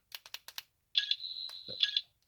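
A 14th Doctor toy sonic screwdriver's second sound: a steady high-pitched electronic buzz bookended by chirpy pulses, following a few quick clicks; close and fairly quiet.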